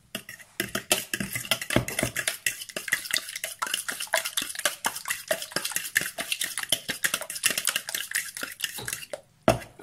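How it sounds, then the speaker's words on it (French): Beaten eggs with salt and pepper whisked for a quiche, with a fast, rapid clatter of a utensil clinking against a bowl, close and lively, ending with a brief pause and a final knock. "Mélanger."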